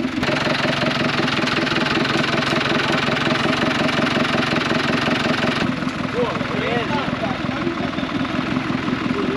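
A tractor engine runs steadily during the recovery of an overturned tractor from a roadside ditch, a continuous close, knocking diesel chug with a slight shift in tone partway through, while voices talk over it.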